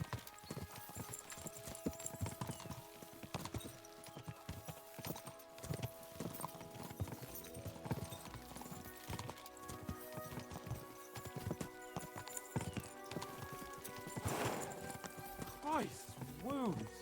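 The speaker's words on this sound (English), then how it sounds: "We should spur the horses on." Horses' hooves clip-clop in a rhythmic, steady trot within a video game, joined by creaking harness or cart mechanisms and an occasional whinny, with voices talking over parts of it.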